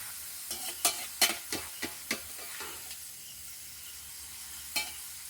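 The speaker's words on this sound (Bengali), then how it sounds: "দেখুন কত সুন্দর ভাজা হচ্ছে" Shredded potato fries in hot oil with a soft sizzle, broken by several sharp scraping and stirring clicks that fade near the end.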